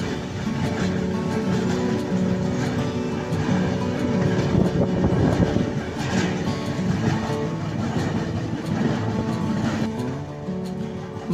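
The Danapur–Jaynagar Intercity Express runs along the line, giving a steady, dense rumble with rhythmic rail clatter throughout and no voices.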